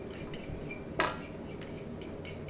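A mug set down in a kitchen sink makes a single clear ceramic clink, with a fainter knock afterward over steady low room noise.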